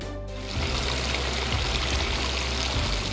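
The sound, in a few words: waterfall in heated pool and spa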